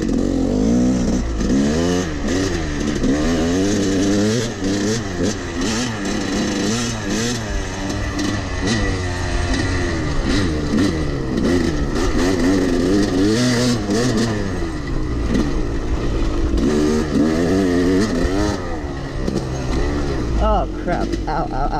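An enduro motorcycle revs and rises in pitch through repeated acceleration sweeps as it rides laps around a dusty dirt bowl, loud and close throughout, with a voice talking over the engine.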